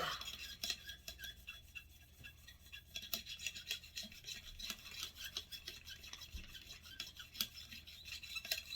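A bore brush on a cleaning rod scrubs the barrel of a Ruger 22 Charger pistol, giving quiet, close scratchy rasps in an irregular back-and-forth rhythm.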